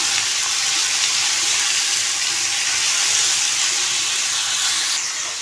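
Chopped tomatoes fry in a pan for a chicken gravy, giving a steady, close, bright sizzle and hiss that holds throughout and eases slightly at the end.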